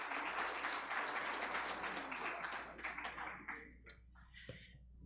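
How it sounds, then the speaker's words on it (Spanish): A church congregation gives a welcome round of applause, dense clapping that thins out into scattered individual claps over about five seconds, heard at a distance and fairly faint. "Un aplauso de bienvenida."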